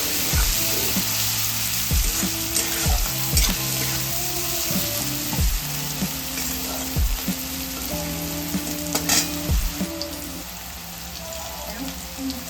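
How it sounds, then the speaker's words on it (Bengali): Chopped beans and carrots frying in a pan with a steady close sizzle, joined by repeated sharp scrapes and knocks of a spatula stirring the vegetables. "এবার গাজর আর বিনসটাকে কিন্তু খুব ভালোভাবে ভেজে নিতে হবে।"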